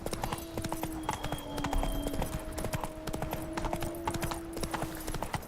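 Roach, Geralt's horse in The Witcher 3: Blood and Wine, trots with a steady, close clip-clop of hooves over a soft background tone, and a faint voice is heard.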